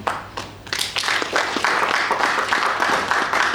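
An audience claps at a TB caucus revitalisation event in Ghana's Parliament, with dense, steady applause swelling after a brief pause and continuing at close range without talk.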